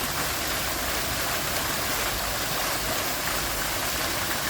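Water from a waterfall cascades in a steady, dense roar that stays constant throughout, with no voices.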